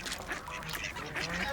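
Ducks quack in short, bright bursts at Webster Pond, a few scattered calls close by and fairly soft, with no one talking.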